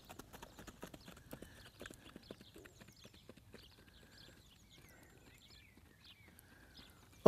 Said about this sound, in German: Noch eine Runde tölt hätten wir gerne.